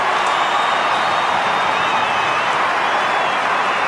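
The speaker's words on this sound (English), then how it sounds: "You can hear the crowd getting excited." Roaring stadium crowd at Telstra Dome during an AFL match between the Western Bulldogs and Collingwood in 2003, a loud, steady wash of cheering with a commentator's voice faintly over it.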